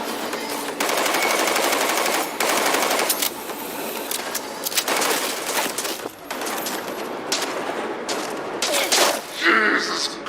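Rapid bursts of automatic gunfire crackle in the Cyberpunk 2077 video game, loud and near, coming in repeated volleys with short gaps, with faint talk underneath.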